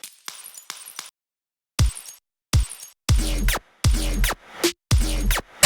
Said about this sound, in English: I also added a glass break.